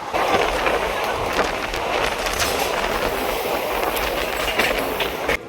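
The Haldibari Superfast Express runs on its rails with a loud, continuous rumble and a rolling clickety-clack of the wheels, heard from inside the moving train with no break in the noise.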